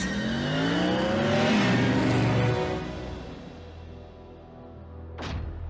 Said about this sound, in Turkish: Bumblebee en iyisi gaza bas.